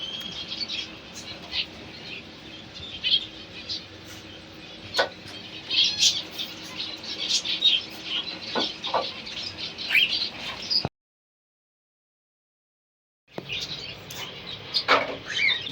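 Grey cockatiels, a breeder pair with chicks, chirping in sharp repeated bursts over a low background hum, with wing flaps mixed in, a brief silence, then more chirps.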